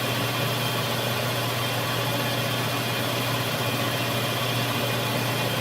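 A shop machine's electric motor runs steadily close by during a lathe gearbox rebuild, a loud constant hum and broadband whir with no change in pitch.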